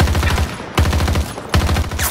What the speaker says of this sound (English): Oh, who's shooting at me?